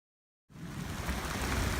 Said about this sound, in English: it's definitely raining outside